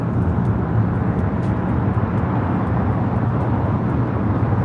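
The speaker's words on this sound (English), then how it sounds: "We do have SAS, Flight 931, coming up from Copenhagen, the A330-300. Nice heavy arrival here on the south side." An SAS Airbus A330-300 jet arriving at LAX after a flight from Copenhagen gives a steady, broad, distant roar that holds level throughout with no voices.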